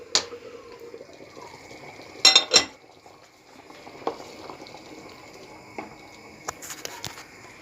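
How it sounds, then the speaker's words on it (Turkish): A utensil clinks and scrapes in a bowl while lemon juice is stirred into an egg-style dressing for tripe soup, with a quick cluster of sharp taps and scattered lighter clicks over a quiet background, no talk. "bir tane limon suyu, ekledikten sonra güzelce karıştıralım"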